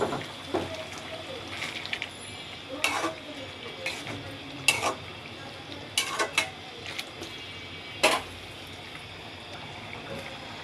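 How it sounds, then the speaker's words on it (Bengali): Whole spices hit hot oil in a pan for a Bengali tempering, giving a faint sizzle broken by several sharp crackles and pops, with quiet ambient noise between them. "এখন আমি ফোড়নটা দিয়ে দিচ্ছি।"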